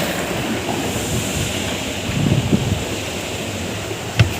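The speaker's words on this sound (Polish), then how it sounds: "Tak się woda wlewa." Rushing, turbulent water pours in steadily, a broad noisy wash with a few louder splashes near the end.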